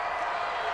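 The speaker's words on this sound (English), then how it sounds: "The crowd getting into it as we come up on a big third down." A stadium crowd in the Madden NFL 20 football video game roars as a big third down approaches, a dense, even swell of cheering with no clear break.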